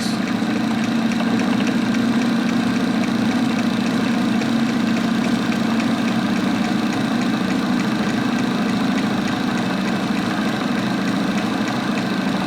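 Engine on a Sun SDT test setup running slowly at about 200 RPM, a steady, loud, continuous drone with a low hum and faint regular knocking throughout, alone without voices.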